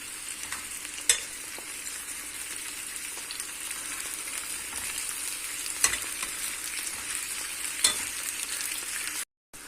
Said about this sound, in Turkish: Önce domateslerimizi pişiriyoruz.